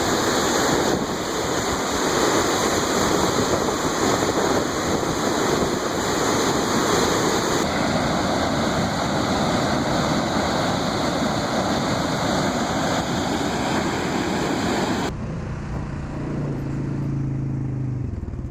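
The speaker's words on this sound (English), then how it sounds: "I'm going to turn up the audio so you can get the effect of how loud this water is coming through the arroyo." Storm water rushes loudly through a desert arroyo, a steady broadband roar that runs unbroken, then drops to a softer rush with a low rumble near the end.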